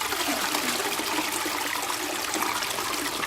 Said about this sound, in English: the loud roar of water rushing through the pipes as it raced to reach its destination